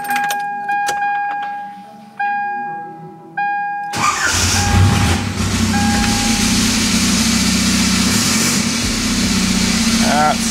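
A car's engine starts after several key-turn clicks and dash chimes, catching with a loud burst and then settling into a steady rumbling idle.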